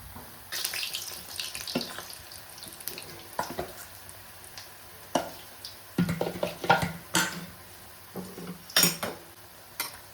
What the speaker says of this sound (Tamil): 6-7 போண்டா போடலாம், வேகட்டும்